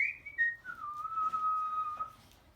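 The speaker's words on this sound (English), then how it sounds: "Looks like he's whistling here." A single person whistles a short tune, sliding down from a high note to a long, steady lower tone, close and fairly quiet.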